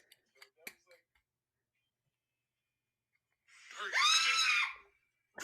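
A person lets out one loud, sustained high-pitched scream lasting about a second, preceded by a few faint clicks and taps in near silence.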